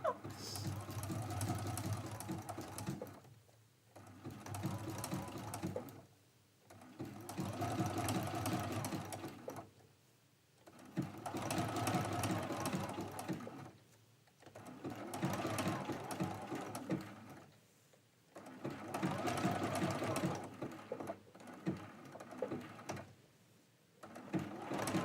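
Sewing machine stitching down a quilt flower, bursts of fast, even mechanical whirring several seconds long, separated by brief pauses, close and fairly loud.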